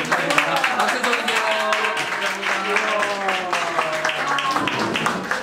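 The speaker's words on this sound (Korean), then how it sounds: "박수 좀 주세요." Audience applause at a church year-end thanks-sharing party, a steady wash of clapping from many people lasting several seconds, with voices and cheers mixed in.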